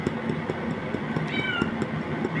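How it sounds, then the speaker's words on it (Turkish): A cat meowing repeatedly behind a closed door indoors, short plaintive calls at moderate distance over a steady background hum. "Benim kız geldi, yine miyavlıyor."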